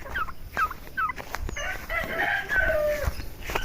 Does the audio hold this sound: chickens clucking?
yes